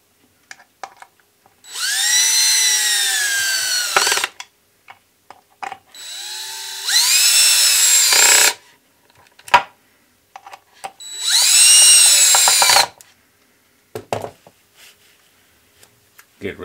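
A power drill drives screws into a small wooden tripod in three whining bursts of a few seconds each that rise in pitch. Short clicks and knocks of handling fill the pauses.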